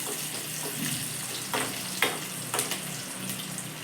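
Capsicum and chopped ginger sautéing in hot oil for a simple capsicum gravy, a steady close sizzle with a few soft scrapes and clinks of stirring.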